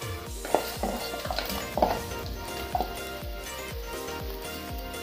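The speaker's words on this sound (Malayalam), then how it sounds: "ഇനി നമുക്ക് ഫ്രൈ ചെയ്ത് വെച്ചിരിക്കുന്ന ചിക്കൻ കൂടി ഇട്ട് കൊടുക്കാം." Pieces of fried chicken stirred into a sizzling pan of Sri Lankan devilled chicken, with steady frying hiss and repeated scraping strokes of a spoon against the pan, no talking.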